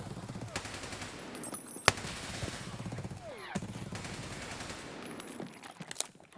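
Rapid gunfire from a budget build gun in a video game, bursts of close, sharp shots with a couple of louder cracks over a dense busy backdrop, with faint voices now and then.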